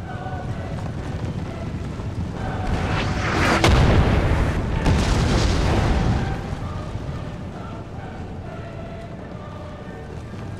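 Cannon artillery fires in a Napoleon: Total War battle, a loud heavy boom swelling into a rumbling roar for a few seconds amid ongoing battlefield noise, then settling back to background din.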